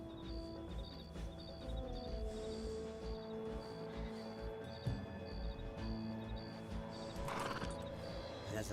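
Maximus, a horse, whinnies with a drawn-out tonal call while hooves clip-clop steadily nearby over a busy outdoor background with faint beeping, and no clear talking.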